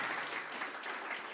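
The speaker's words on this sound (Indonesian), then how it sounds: "Tepuk tangannya yang paling meriah buat Tuhan." A church congregation claps together in sustained, fairly soft applause, an even patter of many hands heard from some distance.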